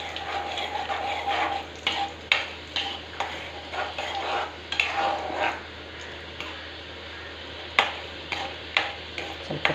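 Mustard seeds, cumin, peanuts and urad dal fry in hot oil for uppittu: a steady close sizzle with scattered sharp pops and crackles and occasional stirring scrapes, no voices.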